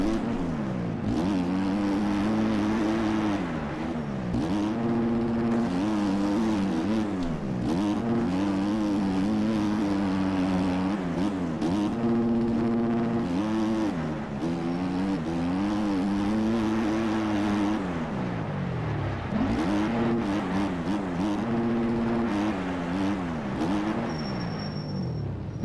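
A motocross bike engine riding a lap in MX Bikes, revving loudly and steadily with its pitch repeatedly rising and falling through gear changes and corners, heard alone.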